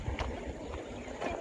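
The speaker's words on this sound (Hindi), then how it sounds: "ये ट्यूबवेल का ताज़ा पानी है जी, और ये फसलों को लग रहा है आगे" Fresh tubewell water gushes into crop fields in a steady, fairly faint rushing flow with a few splashes.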